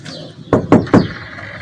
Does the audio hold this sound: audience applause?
no